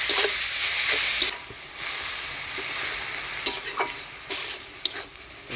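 Chopped lafa greens with green chili, salt and a little turmeric sizzle loudly in a hot pan, a steady hiss of frying broken by scraping stirs and occasional sharp spatula clicks.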